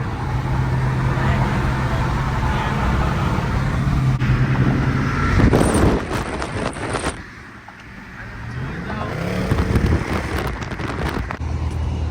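A Dodge Charger RT drives along a road in Philadelphia, its engine rumble steady and close, with passing traffic and a few sharp bursts mixed in partway through.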